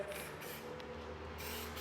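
A spray paint can lays a second coat of piano black paint, giving a soft, continuous hiss that holds steady through the short stretch with no voices.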